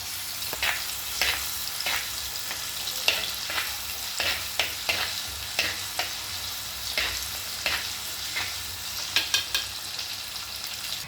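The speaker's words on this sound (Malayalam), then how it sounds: "ഇനി വെളുത്തുള്ളിയും ഇഞ്ചിയും നന്നായി മൂക്കണം" Chopped garlic and ginger frying in hot oil in a pan, giving a continuous close sizzle broken by regular, rhythmic scraping strokes of a spoon.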